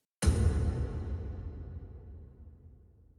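A single deep hard techno kick made in Serum 2 hits hard, then a long rumbling hybrid reverb tail slowly decays into quiet, with no voices.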